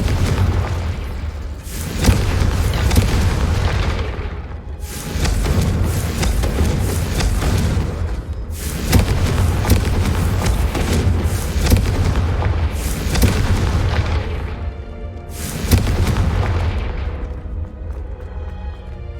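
Confringo fire spell explosions in the video game Hogwarts Legacy, a run of loud booming blasts every few seconds over a continuous rumbling bed, with no talk.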